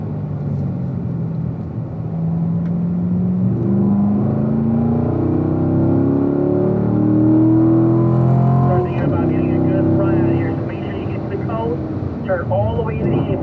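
A race car powers out of a turn to full throttle, its engine note climbing steadily in pitch as it accelerates, loud and close, while a voice talks over the drone.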